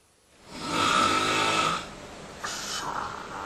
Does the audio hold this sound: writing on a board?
no